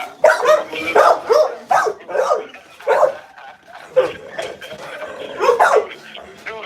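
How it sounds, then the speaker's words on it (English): Several dogs barking and yipping in bursts, fairly close and loud, with irregular pauses between volleys and a whimper or two mixed in. "they gonna start barking and making all their noise"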